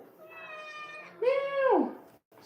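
A cat meows clearly nearby, one drawn-out call followed by a louder, rising and falling meow, heard alone with no talk over it.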